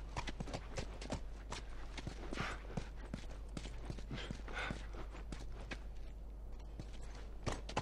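Horse hooves clip-clop steadily in The Last of Us game, a repeating rhythm of sharp knocks at moderate distance over a constant low ambient hum, with no talk.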